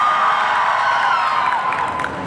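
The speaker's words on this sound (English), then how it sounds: "scream as loud as you possibly can" A crowd at a Midsummer Scream horror event screaming together as loud as they can, a sustained, dense wall of high-pitched shrieks from many voices that holds steady and starts to fade at the end.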